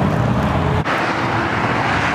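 Freeway traffic rolls past in a continuous broad roar of car noise, close and loud, with a brief dip before the wash resumes.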